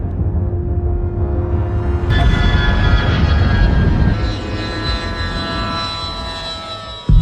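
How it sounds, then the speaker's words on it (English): A U.S. Navy MQ-4C Triton unmanned aerial vehicle flies past with a loud, droning jet engine roar. Its tone shifts and rises partway through, then fades slightly toward the end. "Meet the MQ-4C Triton, U.S. Navy's largest unmanned aerial vehicle."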